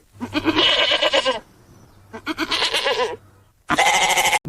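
A well-fed goat being led on a rope bleats three times, loud and close, each call long and wavering, with brief pauses between them.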